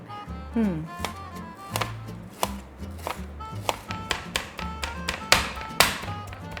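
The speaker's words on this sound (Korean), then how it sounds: "이제 고기 다 다졌고" Meat hand-minced with a knife on a board for Korean patties: a brisk run of sharp, close chopping taps in an uneven rhythm, each hit crisp and loud, with no talk.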